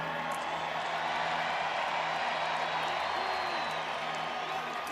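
A large outdoor crowd at the Dodgers World Series victory parade in downtown Los Angeles, a steady wash of distant cheering and applause with scattered whoops, continuous and moderately loud.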